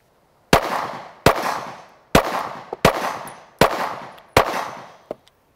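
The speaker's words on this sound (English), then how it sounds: "I'm fixing to fire 6 rounds of Federal HST through the Glock 43" Six sharp shots from a Glock 43 pistol loaded with Federal HST rounds, spaced under a second apart. Each loud crack rings off into a short decaying tail, followed by a faint metallic clink at the end.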